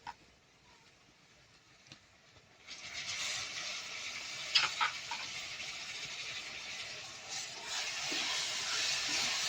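Chana masala spices frying in a pan with crushed tomatoes, a soft steady sizzle that swells louder after the tomatoes go in, with occasional clinks of a stirring utensil and no talking.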